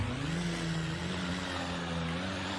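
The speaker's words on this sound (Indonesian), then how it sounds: "Mobil sekecil ini suaranya suara biturbo coy." A BMW 120d five-door hatchback idling with a tuned, biturbo-like engine note, a steady low hum and drone that holds evenly throughout, close and moderately loud with no talking.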